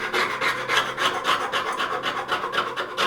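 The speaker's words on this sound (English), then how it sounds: "I need to get all this rust flake off" Rust flakes being scraped off the steel blade of an old Union transitional hand plane, a steady rasping scrape repeated in quick strokes at close range with no voices.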